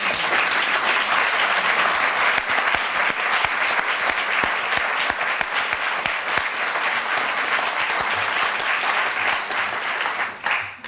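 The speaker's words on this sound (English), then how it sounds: "people will start applauding before the title is even finished" An audience at a faculty panel bursts into loud, continuous applause. The dense clapping holds steady throughout and fades at the very end.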